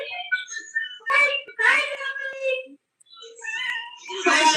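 A kitten meows several times in short, high, wavering cries, close by, with soft human speech mixed in between the calls.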